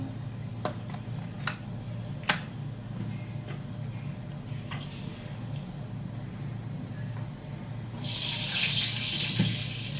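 Cumin seeds go into hot oil left from frying fish, with quiet kitchen clicks and taps before a sudden, loud hissing sizzle near the end.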